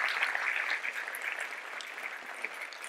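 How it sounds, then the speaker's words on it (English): Audience applause at a talk, a dense, steady patter of many hands clapping through the whole stretch at moderate loudness, with no voices over it. "Can everyone give them a round of applause?"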